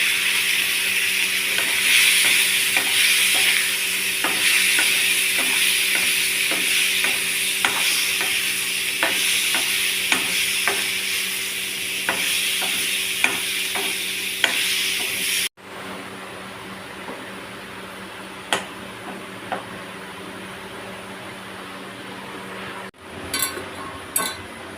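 Curry leaves with potato sizzle in hot oil in a pan while a spoon stirs and clinks against the metal, a loud continuous fry that drops to a quieter hiss partway through.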